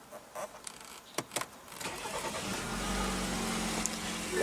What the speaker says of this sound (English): what you're hearing there is BMW's 2-liter twin-turbo inline